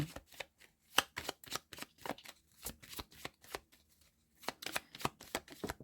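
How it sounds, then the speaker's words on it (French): Playing cards being shuffled up close in a quiet room, a rapid riffling and slapping in several bursts with a short pause near the end. "je vais déjà brasser quelques cartes"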